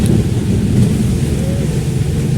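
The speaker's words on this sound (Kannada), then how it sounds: "ಇಲ್ಲಿ ನೋಡಿದ್ರೆ ಮಳೆ ಬರ್ತಾ ಉಂಟು" Rain falls with deep rumbling thunder, a loud, steady low roar under a soft hiss of rain that runs unbroken throughout, with no voices.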